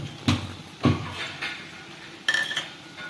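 Egg bhurji with grated coconut being stirred in a cooking pan, a spatula knocking and scraping the pan in a few distinct clinks, then a brighter double clatter near the end, with no talk.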